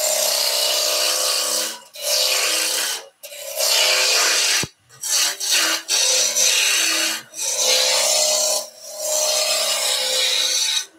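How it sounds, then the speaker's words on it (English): A spindle roughing gouge tapers a spinning wooden workpiece on a lathe, giving a loud continuous rasping scrape broken by short pauses as the cutting starts and stops. "I'm just going to start tapering with the spindle roughing gouge."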